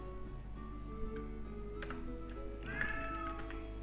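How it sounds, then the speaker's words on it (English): A faint cat meow rises and falls briefly near the end, over a low steady hum and soft ticking. "Meow. My cat is talking."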